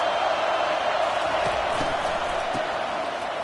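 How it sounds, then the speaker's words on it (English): A packed football stadium roars continuously as the home crowd makes noise to help its defense, a loud, dense wall of cheering that holds steady throughout with a few sharper thumps and shouts rising from the mass. "Listen to this crowd just shaking the girders of this place, trying to help their defense."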